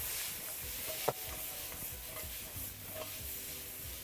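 Tofu and long beans tossed in a pan with sauce and sesame oil, giving soft scraping and shuffling over a low steady sizzle, with one sharp utensil knock near the start and fainter clinks later.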